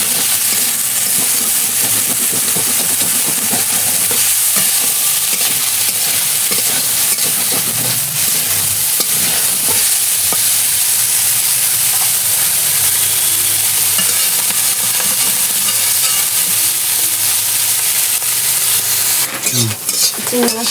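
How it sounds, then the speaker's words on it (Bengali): Prawns frying in oil in a pan with salt and turmeric, giving a loud, continuous close sizzle with occasional stirring scrapes, and a brief clatter near the end. "একটু নুন আর হলুদ দিয়ে চিংড়ি মাছটা ভালো করে ভেজে নেব।"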